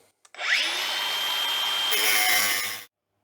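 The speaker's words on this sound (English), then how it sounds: "And we'll grind this one as well." An angle grinder runs on rusted metal of a vintage pedal car, a short high whining burst of about two and a half seconds starting and stopping abruptly, close and loud.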